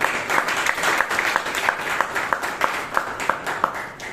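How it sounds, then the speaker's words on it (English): Scattered hand clapping from a modest Toastmasters audience in Bangalore, with a few sharp individual claps standing out over the steady patter of the group. "So I think we deserve a round of applause"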